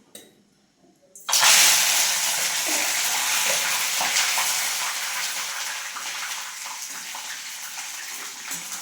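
Curry leaves drop into hot oil while chivda is being made and burst into a loud, sudden sizzle that keeps crackling steadily close by, easing slightly toward the end after a brief quiet start.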